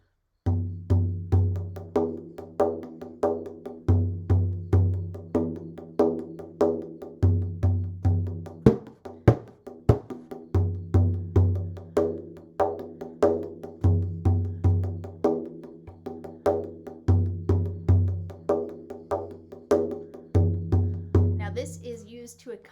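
Arabic hand drum tapped alone in the Bambi rhythm used to accompany classical Arabic music, a steady repeating pattern of deep resonant bass strokes and crisp higher taps looping cleanly for over twenty seconds.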